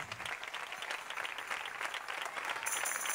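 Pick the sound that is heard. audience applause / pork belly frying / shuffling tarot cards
audience applause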